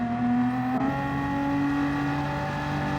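A BMW M4 Gr.4 race car in Gran Turismo 7 holds a steady high-pitched engine drone, with a brief shift-like dip early on, then a continuous sustained tone at moderate volume with no talking.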